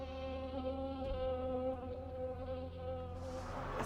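Male mosquitoes released indoors buzz continuously in a steady, high-pitched drone with several layered tones, fairly close and loud, with no voices.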